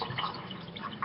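Peach vodka is poured into a cup, a short, soft liquid trickle with light dripping splashes, close by and without any talk.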